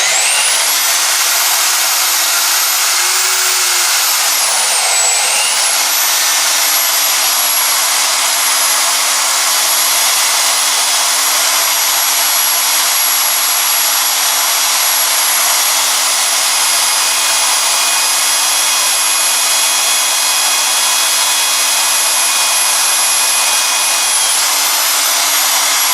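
A Vevor ZT-45H magnetic drill bores through 6mm steel with a loud, steady high-pitched motor whine that dips briefly early on, then holds constant throughout.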